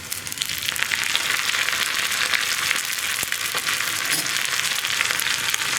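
Dried red chillies and curry leaves sizzling in hot oil, an even hissing crackle that stays fairly close and steady throughout, with no voices.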